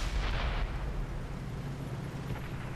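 A T25 tank's cannon in World of Tanks on console, a loud broadband boom with a heavy low rumble that rolls on and fades slowly over about three seconds, with no voices.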